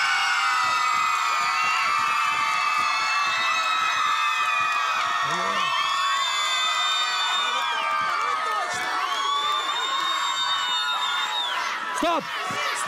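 An outdoor karaoke crowd on a public square cheers, whoops and shouts continuously and loudly, with shrill whistles and voices rising above the steady roar.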